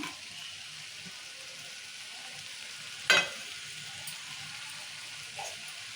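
Broad bean curry with coconut powder and coriander gives a steady low sizzle in a pan, broken by a single sharp clank of a spoon stirring midway and a softer knock later.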